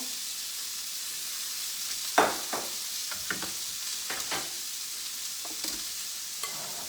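Grapes sautéing in a pan for a rosemary, grape and brie flatbread, a steady hissing sizzle close by, broken by a few sharp spatula knocks and scrapes.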